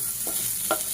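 Onions frying in a pan give a steady, soft sizzle, broken by two brief scraping stirs in quick succession.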